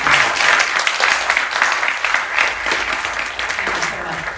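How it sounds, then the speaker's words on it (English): An audience claps for a panel at the close of a public discussion on minimum wages in New Zealand, a loud, dense round of applause holding steady throughout, with some voices mixed in. "you can clap if you like"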